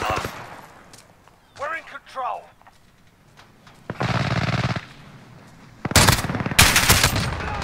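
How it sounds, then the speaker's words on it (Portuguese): Bursts of rapid automatic MP7 gunfire in Call of Duty: Modern Warfare (2019) Hardpoint, separated by short gaps, with excited voices talking in between. "Mandei-lhe um tiro sem querer."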